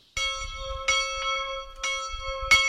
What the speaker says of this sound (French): Celle-ci annonce le petit déjeuner.